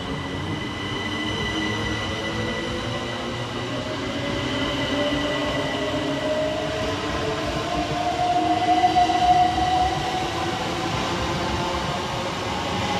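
A Southern Railway Class 377 electric multiple unit train pulls away from Hassocks station with a steady rolling rumble and faint whining tones, wheels rumbling continuously as it gathers speed.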